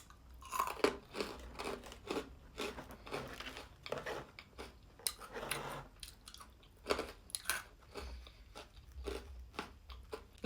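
Someone chews a crunchy, savory vegan snack with a mild spicy garlic flavor, sharp close crunches coming in irregular bursts with short pauses, no speech alongside.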